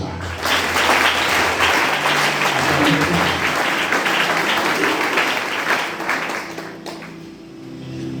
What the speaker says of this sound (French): Acclamez homme de Dieu.